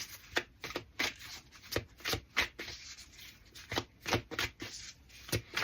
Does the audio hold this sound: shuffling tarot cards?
yes